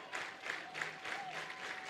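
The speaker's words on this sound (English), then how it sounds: "This crowd that's been into it all evening to their feet." Crowd at a college softball game rising to its feet, sustained applause and cheering swelling in waves, with a faint whistle-like tone riding through the noise.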